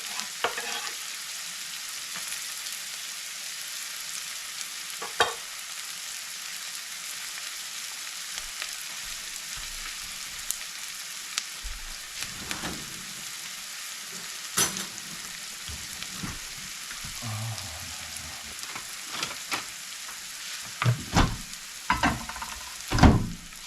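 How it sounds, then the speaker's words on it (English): Onions sautéing slowly in a pan over low heat, a soft continuous sizzle with occasional scrapes and clinks of a utensil stirring, louder bursts near the end. "We turn the fire down a little to low and let this saute for a while."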